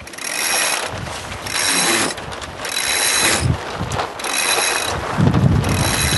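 Sailboat mainsail going up on its halyard while the boat heads into the wind: repeated bursts of rope running through pulleys and rattling gear, in rhythmic pulls over wind noise on the microphone.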